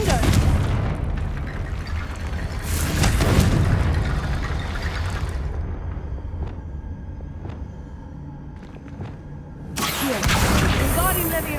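The Confringo fire spell goes off in Hogwarts Legacy, producing several heavy booming blasts with rumbling tails in the game's combat, with a player's voice speaking between them.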